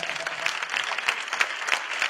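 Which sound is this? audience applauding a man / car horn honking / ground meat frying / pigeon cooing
audience applauding a man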